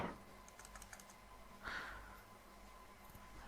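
Quick clicks of fingers typing on a computer keyboard, with one firmer Enter keystroke partway through, close and fairly quiet with no speech.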